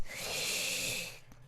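A pet in deep sleep snores once, a single drawn-out raspy breath lasting just over a second, close and fairly soft, with no talking.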